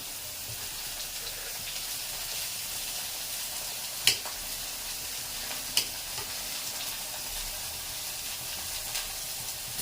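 Onion, brinjal and tomato sauté in a hot pan for brinjal thokku, giving a steady close hiss of frying broken by two sharp clinks of a spoon against the pan.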